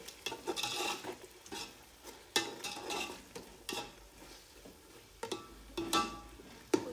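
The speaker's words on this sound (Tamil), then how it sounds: "புதினா நல்லா மிக்ஸ் பண்ணிவிட்டு" A spoon scrapes and stirs mint through a pot on the stove for Bangalore donne biryani, in soft repeated strokes with a faint sizzle underneath.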